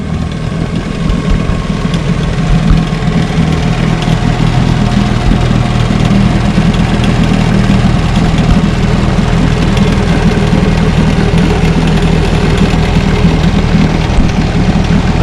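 A 1963 Johnson 10 HP outboard motor idles steadily and loudly up close, its even low engine drone running unbroken with no talk over it.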